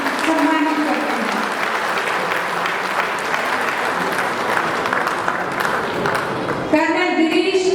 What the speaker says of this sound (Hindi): एक जोरदार ताली से इन्हें हम सम्मानित करते हैं।